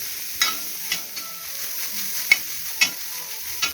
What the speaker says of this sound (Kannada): ಇದನ್ನು ಬಾಡಿಸುವ, ಪೂರ್ತಿಯಾಗಿದ್ದ ರಸ ಹೋಗಿ ಬಾಡಬೇಕಿದು. ಅಲ್ಲಿವರೆಗೆ ಸ್ವಲ್ಪ ಕೈ ಆಡಿಸುವ.